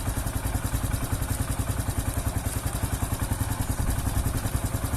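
A Honda Pop 110i motorcycle engine runs steadily with oil newly added, giving a close, continuous mechanical idle with a rapid, even pulsing and a light clatter throughout, no voices over it.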